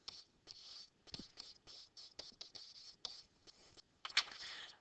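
A math problem written out by hand on a surface, heard as close, quiet scratchy strokes in short bursts separated by brief pauses, with a sharper scrape near the end.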